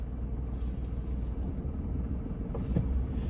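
A car engine idles in a low, steady rumble as the clutch is let out toward its biting point, with the tone shifting slightly and a faint knock near the end.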